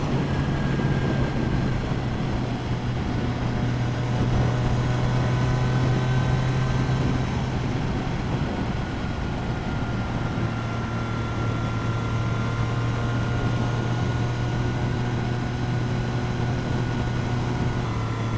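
A Triumph 900 motorcycle engine cruising in sixth gear at around 60–65 mph, giving a steady, continuous drone mixed with wind rush, heard from the rider's position, with no talking.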